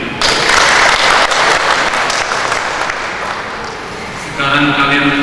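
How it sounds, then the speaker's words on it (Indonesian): Applause for a newlywed couple at a wedding blessing, a dense, loud burst of clapping from a crowd that dips slightly and then swells again, with a voice speaking over the end. "Kita beri aplaus untuk mereka"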